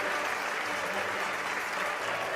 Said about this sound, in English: So let us then express our gratitude again to True Mother for a big round of applause.